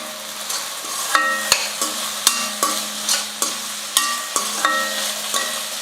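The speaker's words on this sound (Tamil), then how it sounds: "காய்கறி சேர்த்ததுக்கப்புறம் எண்ணெயில் வந்து 1 நிமிஷத்துக்கு நல்லா வதங்கட்டும்." Onions and vegetables sauté in hot oil in a pan, a steady low sizzle broken by regular scraping, clinking strokes of a spoon stirring every half second or so, close and alone.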